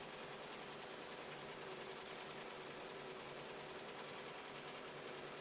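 A Bai Mirror embroidery machine stitches quilted laptop bag panels, its steady, dense mechanical whir running continuously and evenly throughout with no pauses.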